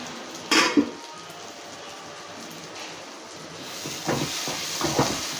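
A cooking pot of onions for fried coconut chicken being uncovered, with a short metallic clank of the lid near the start, then a soft steady steam hiss and a few light clinks later, with no talking.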